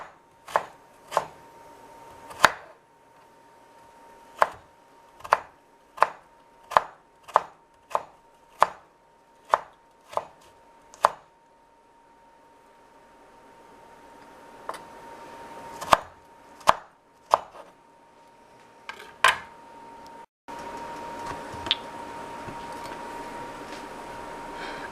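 Carrots being chopped with a knife on a cutting board: crisp, sharp single knocks at an uneven pace, close and clear against a quiet room, with a brief pause and a faint steady hum near the end.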